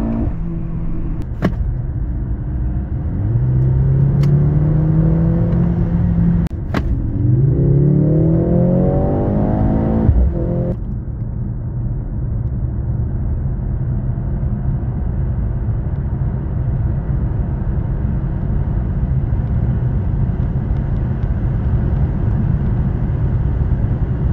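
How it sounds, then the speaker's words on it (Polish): A Mercedes C63 AMG W206 hybrid with a 2.0-litre four-cylinder engine revs up with rising pitch as it accelerates hard, then settles into a steady loud roar and road rumble for a long stretch. "a po chwili z całych sił pcha nas silnik spalinowy"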